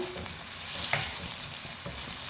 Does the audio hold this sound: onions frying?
yes